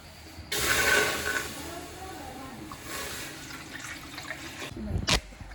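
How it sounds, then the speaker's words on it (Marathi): Water splashes and pours steadily into a cooking pot for a few seconds, with a brief louder gush near the end. "टोपात आता मी पाणी घालतालय"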